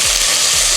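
Thyme and black pepper stirred in a hot frying pan, a loud close sizzle with a brief scrape of the stir, very short.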